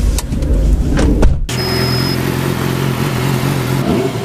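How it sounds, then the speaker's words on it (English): A car engine in a crime-comedy scene turns over and settles into a steady, loud idle hum after an abrupt cut, running alone without talk. "Start the car."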